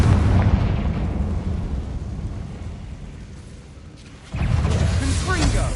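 A Confringo fire spell explosion in Hogwarts Legacy bursts out near the end as a loud boom over dense, continuous game noise, with a voice heard in the background.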